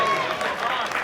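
Wedding guests clapping during the speeches at an autumn wedding at Edworth Manor, a steady wash of crowd applause, moderately loud and continuous for a brief moment.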